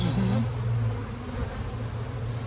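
Honey bees buzz steadily on a hive frame during an inspection, a dense, continuous near hum that holds loud and unbroken throughout.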